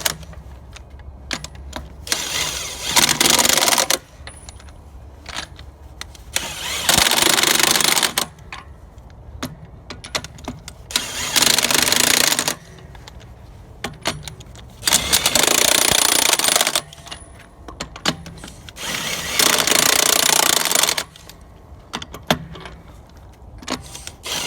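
Wheel nuts being tightened on a Peterbilt 359 truck: about five loud, buzzing mechanical bursts of a few seconds each, separated by quiet gaps with light clinks and handling noises.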